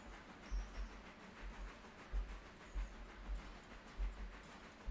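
A Berkshire steam locomotive in the video game Railroader gives a steady rumbling hiss with a faint rhythmic low chuffing pulse, heard at moderate distance.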